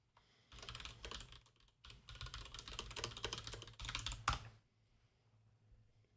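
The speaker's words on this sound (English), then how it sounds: "Never mind my extremely loud keyboard." Loud, rapid computer keyboard typing clatters in fast bursts of keystrokes with brief pauses, close to the microphone, then stops into near silence.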